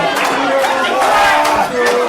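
A capacity crowd at a live wrestling event roars and cheers continuously, a dense wash of many voices rising and swelling with shouts breaking through.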